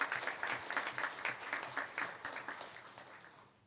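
Congregation applauding during a Sunday church service, a steady wash of many hands clapping at moderate distance, fading gradually toward the end.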